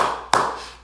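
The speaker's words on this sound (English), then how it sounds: "Clap for myself there." A man on a podcast claps his hands once, sharp and close, after a short stretch of quiet room tone.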